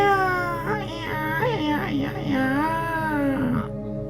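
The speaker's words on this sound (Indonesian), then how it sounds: "Mbok Rondo sangat bahagia mendengar suara tangisan bayi itu." An animated folktale's newborn baby girl cries in rising and falling wails, loud and close, several sobbing bursts over a few seconds with no other voices.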